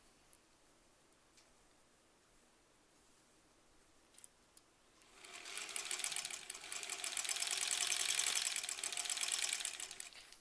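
A sewing machine stitching quilt block pieces starts after a few quiet seconds and then runs steadily, with a fast, even mechanical whir and ticking that stays moderately close.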